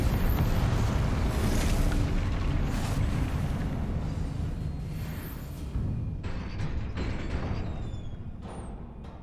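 A blasting spell detonates in Hogwarts Legacy, a dense rumbling explosion with heavy low-end boom that stays loud and then gradually tapers off, with scattered debris-like crackles near the end.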